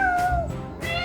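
A cat gives a single clear, close meow with a rising then falling tone lasting under a second, followed by a softer second cry.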